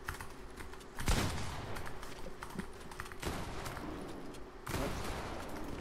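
Rapid gunfire in a competitive shooter video game, sharp bursts at about one, three and four-and-a-half seconds over a dense, steady bed of game noise.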